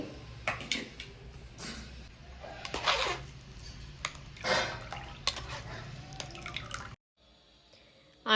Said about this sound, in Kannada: ಮತ್ತೆ ನಾನು ಅದನ್ನು ಜ್ಯೂಸನ್ನು ತೆಗಿತಾ ಇದ್ದೀನಿ